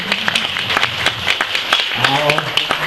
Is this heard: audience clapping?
yes